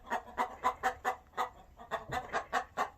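Several hens clucking close by in a quick, steady series of about a dozen short calls, with no voices over them.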